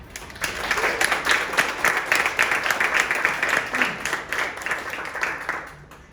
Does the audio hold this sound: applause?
yes